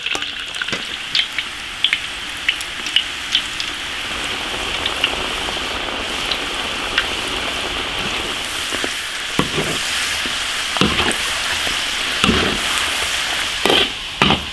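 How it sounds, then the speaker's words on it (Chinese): Potatoes deep-fry in hot oil in an iron wok with a dense, steady crackling sizzle, dotted with sharp pops and bubbling bursts that grow busier toward the end, and no voices. "土豆下锅炸一下。"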